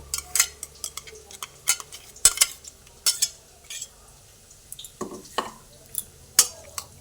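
Spice paste is mixed into chicken in a bowl for Mughlai chicken, heard as close, intermittent scrapes, clicks and wet taps in irregular bursts with quiet pauses between and no talk.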